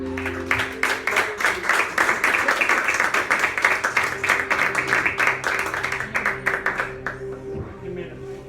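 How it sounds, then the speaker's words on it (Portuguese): A church congregation applauds during a service, dense rhythmic clapping building steadily and filling the space for several seconds before tapering off near the end, with faint tonal music or organ underneath. "Aplaude a Ele."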